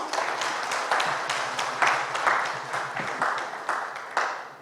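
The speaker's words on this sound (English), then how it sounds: "can you give all my panelists a huge round of applause, please?" A round of applause for panelists at a conference panel: scattered, moderately close clapping in uneven bursts that swell and fade over a few seconds.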